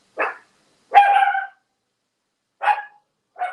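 A dog barks four times, close and sharp, in two pairs separated by a pause, with silence between the barks.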